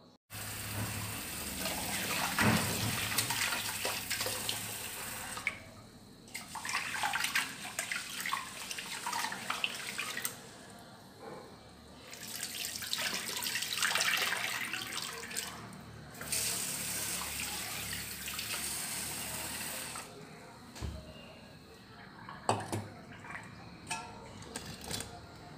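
Soaked raw white rice is washed in water for ribbon pakoda batter, with running water splashing and gushing in several bursts separated by quieter pauses, close by and soft.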